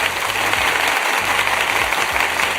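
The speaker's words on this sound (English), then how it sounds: "So we hand clap for that." A group clapping together on a talk show about a long marriage, with a loud, continuous spatter of hands over low background tones and no voices.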